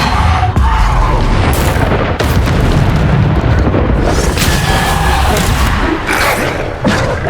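Spell blasts and explosions in Hogwarts Legacy combat, loud booming impacts and thuds in rapid succession over a dense, chaotic battle din.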